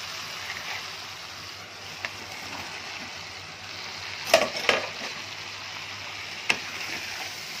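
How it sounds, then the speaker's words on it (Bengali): Young jackfruit cooks with potatoes, spices and a little water in a pan, giving a soft, steady sizzle with a few sharp spatula knocks and scrapes scattered through. "এঁচোড়টাও কষিয়ে নেব"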